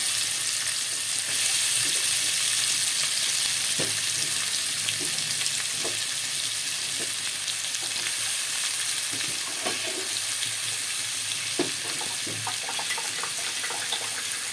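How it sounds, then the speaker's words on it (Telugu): Onions and green chillies sizzle steadily in a hot pan for a Telugu ridge gourd curry, a constant bright frying hiss broken by occasional clinks and stirring taps, close and without speech. "ఇందులోనే మళ్ళీ ఉల్లిపాయలు వేసుకుని వేపుకోవాలండి"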